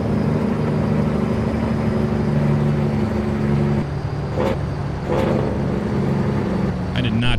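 Heavy truck engine rumble from a Kenworth 521 in American Truck Simulator, loud and steady throughout, with a throaty engine-brake drone and a couple of brief bursts near the middle.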